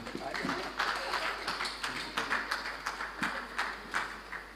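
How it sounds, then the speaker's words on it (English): A conference audience applauds a panel at an agriculture meeting, a steady ripple of many hands clapping at moderate distance, filling the room evenly without a break. "A round of applause again for this panel"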